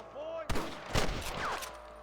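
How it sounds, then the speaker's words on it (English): A few sharp gunshots crack out in quick succession among Red Dead Redemption's ambient background, moderately loud with faint voices mixed in. "I can hear more gunshots."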